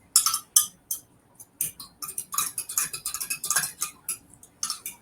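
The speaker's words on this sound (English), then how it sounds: "Now we're going to stir this up and we're going to let it do its thing." A spoon stirs a yeast mixture for pretzel dough in a bowl, making a run of close, irregular clinks and taps that come in quick bursts with short pauses between them.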